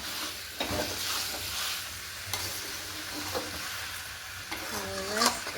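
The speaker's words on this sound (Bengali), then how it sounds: "এরকম আলু কষা কষাও ভালো লাগে" Diced potatoes sauté in a hot pan for a large home-cooked Bengali potato curry, giving a steady close sizzle broken by a few sharp spatula scrapes and stirs, with no talking.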